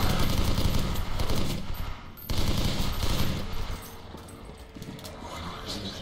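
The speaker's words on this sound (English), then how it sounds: "Those assholes shot the propane tanks behind me." Video game gunfire pounds at propane tanks in dense, rapid bursts, loud and near, with a brief gap midway before the rattling shots resume and gradually ease off.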